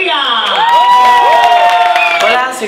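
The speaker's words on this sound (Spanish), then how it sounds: "ovación también y aplausos para recibir a Chloe Sofía" A live show crowd cheers and whoops loudly to welcome a performer, with rising, sliding shouts and screams over clapping, sustained throughout.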